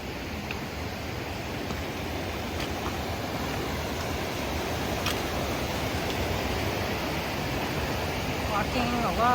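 Hell Roaring Creek rushes and churns along its bank, a continuous broad roar of flowing water that swells slightly, with faint sounds of people nearby.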